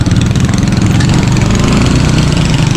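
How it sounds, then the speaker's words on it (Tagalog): A motorcycle engine idles close by, loud and steady with a low chugging rumble and no voices over it. "Dahil ang motor ko yan."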